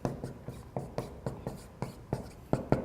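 Pen or marker writing on paper while working a math problem on circles, a run of short scratchy strokes in an irregular rhythm, close and fairly quiet with no talk.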